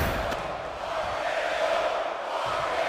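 A wrestling crowd roars in support of Randy, a sustained, loud wash of cheering and shouting that swells slightly toward the middle and holds without pause.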